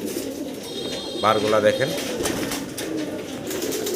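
Pigeons coo at a large pigeon farm while a restless single Spanish male pigeon struggles in hand, a burst of wing flutter and calls rising mid-clip over steady flock murmur, with someone speaking throughout.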